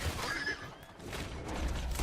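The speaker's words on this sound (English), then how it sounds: "Oh, crap. I shot his horse." A shot horse whinnies in Red Dead Redemption 2, a short, fairly faint neigh over a low rumble of game ambience, with no talk.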